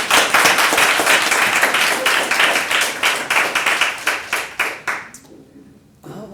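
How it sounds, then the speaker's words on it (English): Audience applause at a Black History Month honors celebration, a steady wash of many hands clapping that thins into rhythmic claps and fades out near the end, with brief background sounds after. "Another round of applause"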